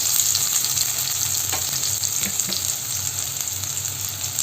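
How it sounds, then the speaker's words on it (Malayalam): Chopped onions fry in hot coconut oil in a kadai, a loud, continuous close-up sizzle with faint scraping strokes partway through and no talking. "വെളിച്ചെണ്ണ ഒന്ന് ചൂടായി വരുന്ന സമയത്ത് അരിഞ്ഞു വെച്ചിരിക്കുന്ന ഉള്ളിയാണ് ചേർത്ത് കൊടുക്കുന്നത്."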